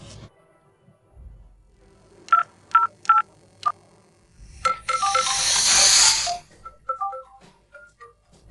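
A phone number is dialed in a drama scene, a handful of distinct beeping keypad tones in quick succession, then a longer hissing burst and further short tones, close and clear with no voices.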